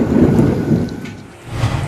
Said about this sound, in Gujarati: બપોર બાદ અમદાવાદમાં આજે પણ મેઘગર્જના થઈ